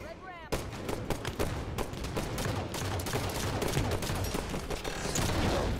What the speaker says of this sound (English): that was not a normal nade